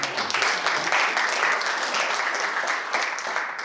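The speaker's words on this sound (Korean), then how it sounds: "박수로 맞아주시고" Audience clapping greets a guest at a Korean independence-war commemoration for the Cheongsanri battle. Dense, steady applause holds throughout before easing slightly at the close.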